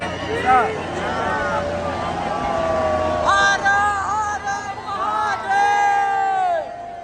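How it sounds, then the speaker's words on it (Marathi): A large crowd of pilgrims at Sangam Ghat in Prayagraj, where two rivers meet: a dense babble of many voices, with shouts and chant-like calls rising above it, close and steady throughout. "तुम्ही बघू शकता गर्दी कशी आहे. प्रचंड गर्दी आहे."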